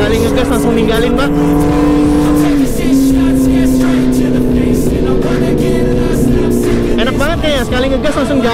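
A motorcycle engine revs hard and roars loudly throughout, its pitch rising and shifting as it accelerates, with voices talking over it.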